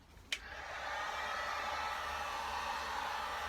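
A heat gun or hair dryer clicks on and blows with a steady, close hiss while warming Polyprox foam boot cover parts, holding an even airy roar after a brief switch-on click.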